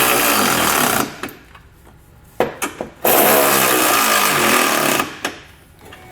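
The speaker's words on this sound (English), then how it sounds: "you want to come back with an 11/16 socket and snug them all up" An impact wrench tightening hitch flange nuts with an 11/16 socket while installing a Curt trailer hitch receiver on a 2018 Infiniti Q50. Loud rattling bursts come in two long runs, separated by short taps and quiet gaps.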